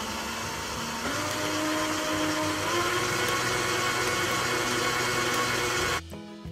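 An electric mixer beats cake batter for a yeasted sponge cake, giving a loud, steady whirring drone that holds for about six seconds before cutting off abruptly.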